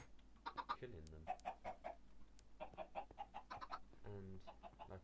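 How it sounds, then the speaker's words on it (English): Repeated short clucking calls from several Minecraft chickens, fairly close, in bursts over a steady low hum, with game-like synthetic tone. "And as you can see, there are now a lot more chickens."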